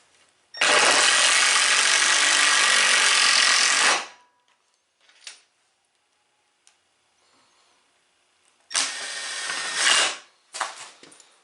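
Power drill driving screws to attach hinges to a wooden fleshing beam, one long loud whirring burst, then a pause with faint clicks and a short tap, then a second whir and a brief final burst.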